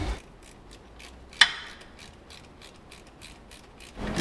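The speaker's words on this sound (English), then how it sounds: "you have to hand screw it until you can get it far enough on to get a socket on there" Socket wrench ratcheting a banjo bolt on a Ferrari F430 E-Diff unit: a steady series of soft, quick clicks close by, with one sharper knock partway through and no talk.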